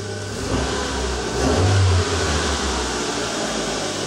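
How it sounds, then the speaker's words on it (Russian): A Daewoo Matiz engine starts and runs close by with a steady rumble, surging briefly in a rev midway before settling back to idle. "Все, есть, машина работает."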